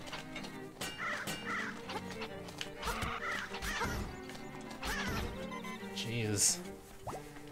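Birds squawk and caw in a Link's Awakening (2019) scene near Tal Tal Heights, repeated harsh calls over game music and effects, with someone talking over them.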